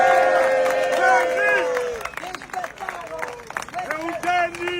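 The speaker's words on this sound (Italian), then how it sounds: "applausi!" A crowd at a Neapolitan fish market claps and cheers, with loud voices shouting over the applause.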